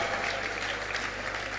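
A conference audience applauds steadily to welcome a professor to the podium, a fairly faint, even wash of clapping filling the moment without a break.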